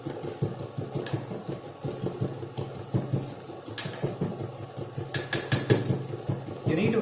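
Rhythmic pounding thuds repeat steadily, with occasional sharp metallic clinks, as spices for an Ayurvedic kadha drink are struck hard in a mortar at close range.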